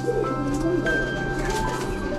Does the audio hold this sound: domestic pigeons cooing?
yes